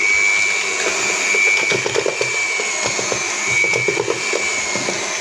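An electric hand mixer beats peanut biscuit batter in a home kitchen, giving a steady close whirring drone with a constant high whine and faint irregular knocks of the beaters against the bowl throughout.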